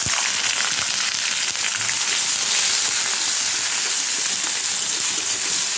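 Ginger paste frying in hot oil for khichuri, a loud, close, continuous sizzle with a bright crackling hiss held steady throughout, no talk.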